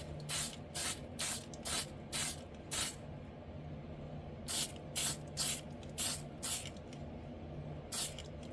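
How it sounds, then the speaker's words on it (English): A spray gun lays a light coat of dull coat clear finish on a model part in repeated short hissing bursts, two groups of about five or six quick sprays separated by a pause, fairly close. "we're gonna shoot this with another hit of dull coat, just a real light coat"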